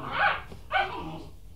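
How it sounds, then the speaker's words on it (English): Puppies give two short, high yips about half a second apart, close by and fairly loud, followed by a brief softer whimpering tail. "Listen to the puppies."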